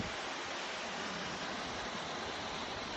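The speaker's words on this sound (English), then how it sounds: "First waterfall." A constant roaring rush of falling water from a waterfall on the Grand Canyon's Bright Angel Trail, dense and unbroken, heard from close by.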